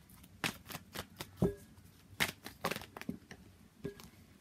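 Tarot cards being drawn and shuffled, giving a series of short, crisp card flicks and riffles at close range, spread irregularly with brief pauses between them.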